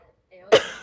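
A single sharp cough bursts out close up after a brief quiet moment, followed by the start of another.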